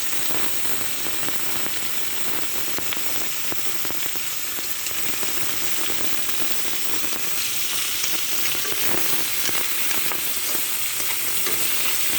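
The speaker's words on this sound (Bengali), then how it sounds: "মাছ ভাজা হয়ে গেছে, এবার তেল দেব।" Silver carp fish frying in hot oil, a dense continuous sizzle heard up close with scattered pops and light stirring, no voices.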